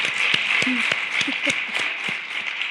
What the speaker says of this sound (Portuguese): dê uma salva de palmas a Deus, que nos criou e nos fez tão bonitas